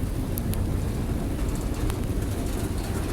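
Steady rain pours down in cold weather beside the railway in Charlottesville, Virginia, where an NS K99 train passes with a Buckingham Branch locomotive, forming a dense, continuous wash of noise with low rumble throughout and no talk.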